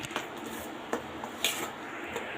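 Idli batter being stirred with maida and cumin in a bowl, giving a few soft, sparse clinks and wet squishes of a utensil at close range over quiet background, with no talking.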